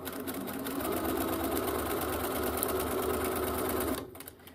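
A sewing machine stitches a fabric face mask with a fast, steady mechanical chatter that runs loud and close for about four seconds, then stops abruptly.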